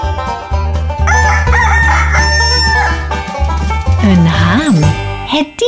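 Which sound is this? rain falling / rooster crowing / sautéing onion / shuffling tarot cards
rooster crowing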